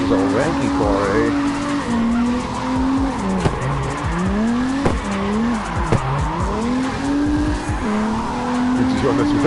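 Race car in the CarX drifting game sliding with loud, continuous tire squeal and a revving engine that swoops up and down through repeated skids, with a player's voice over the noise.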